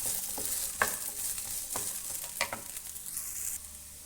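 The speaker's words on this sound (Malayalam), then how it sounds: "ഇതേപോലെ ഇതെല്ലാം കൂടെ ഒന്ന് നന്നായി ഒന്ന് മിക്സ് ചെയ്ത് കൊടുക്കാം." Mixed vegetables including carrots and beans being stirred in a pan for a Karnataka-style mixed vegetable curry, with soft sizzling and a few clinking spoon scrapes, close and alone.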